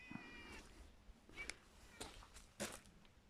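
A cat meows in short repeated calls outside a house on a quiet little street in the Charente countryside, a few separate cries spread over a few seconds with soft background noise between them.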